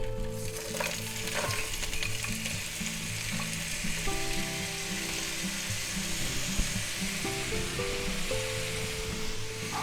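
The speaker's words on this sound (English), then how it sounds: "we're going to add a little more oil to the pan here. And we're going to go ahead and put our vegetables right in there" Vegetables stir-fry in hot oil in a pan, a loud continuous sizzle and crackle with occasional clinks and scrapes of a utensil stirring them, close up and without talk.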